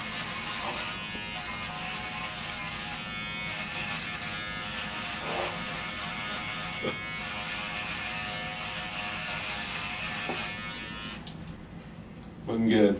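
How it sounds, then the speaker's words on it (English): An electric razor buzzes steadily and close up while shaving, a continuous whirring drone lasting several seconds that shifts slightly as it moves over the skin, before a brief louder rustle at the end. "Gotta shave for my interview."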